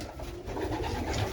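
Young pigeons coo steadily in a loft during a summer morning, a soft, continuous murmur of several birds close by, with no one talking.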